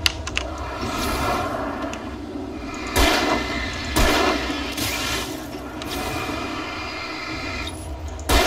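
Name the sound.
gunfire at a shooting range in the video game Alan Wake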